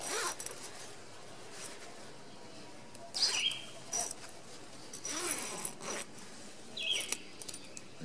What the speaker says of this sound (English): As the zippers come around.